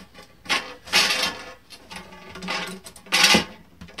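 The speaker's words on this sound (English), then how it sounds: "I'm going to drill this out and put some rivets in" A power drill bores out metal near the radiator of a 1967–72 Chevy truck, with a scrap of aluminum slipped underneath for protection; several loud, close, broadband bursts of drilling come in uneven spurts with short pauses between them.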